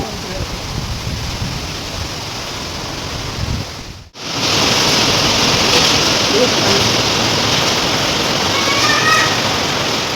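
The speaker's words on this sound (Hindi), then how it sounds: "बाहर इतना पानी गिर रहा है और पत्थर गिर रहा है" Heavy rain, mixed with falling hail, pours down outside a hotel in Himachal as a dense, loud, continuous roar with a brief dip partway through.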